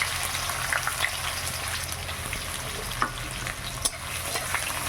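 Chopped onion sizzles steadily in hot oil with dried chili, bay leaf, green cardamom, cloves and cinnamon, a dense, continuous frying hiss close by, with a few soft stirring knocks and no talking.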